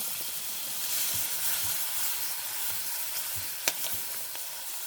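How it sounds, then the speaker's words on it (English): Onions sizzle and fry as they hit a hot roux for gravy, a steady close hiss with faint stirring and one brief sharp click near the end. "I'm going to add some onions to this, and it'll stop the cooking."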